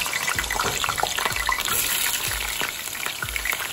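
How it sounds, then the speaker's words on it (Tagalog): Potatoes frying in a pan of hot oil for kaldereta, with a steady, dense sizzle and bubbling hiss, close and fairly loud, plus periodic soft thumps from stirring. "Prituin ang patatas."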